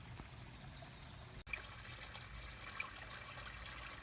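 Creek water flows and trickles softly and steadily around a footing under construction, with a faint sharp knock partway through.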